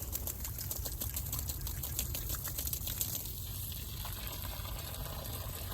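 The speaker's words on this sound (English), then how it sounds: "And now we rinse it." A spray of water rinses an epoxy-coated surface during a power-wash cleanup, a continuous hissing, gushing stream with rapid fluttering pulses, heard up close and alone.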